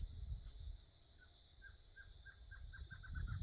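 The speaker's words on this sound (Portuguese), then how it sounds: "Tem uma choca barrada cantando aí." Barred antshrike singing on a rural smallholding, a faint accelerating series of short notes rising to a quick run, distant under low rumble and a steady insect-like whine.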